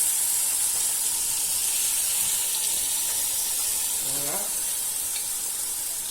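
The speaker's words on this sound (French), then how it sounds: "Je vais rajouter un petit peu d'eau." Water poured into a pot of simmering egusi with spinach sets off a steady, bright sizzle and hiss, with a soft stirring scrape partway through and no talking.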